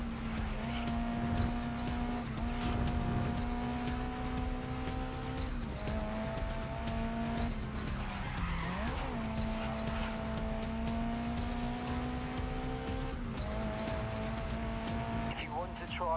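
A race car in GRID Legends drives with a steady, loud engine drone whose pitch dips and rises through gear changes. Occasional tire squeal shows through. Talk continues over the engine throughout.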